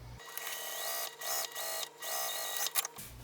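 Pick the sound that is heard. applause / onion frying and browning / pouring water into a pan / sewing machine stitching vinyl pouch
sewing machine stitching vinyl pouch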